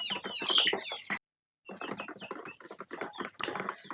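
A flock of young chickens cluck and chatter continuously, with a brief pause of silence before the flock resumes its busy, close clucking.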